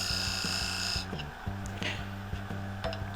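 A lathe tool scraping the inside of a 7-inch fiddle-back claret ash bowl, soft scratchy rubbing over the steady hum of the spinning lathe, close and fairly faint, with brief tool contacts repeating.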